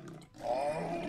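Smilodon roars from the prehistoric survival game Cenozoic Survival, a loud, sustained snarling roar that swells after a brief dip and holds steady to the end.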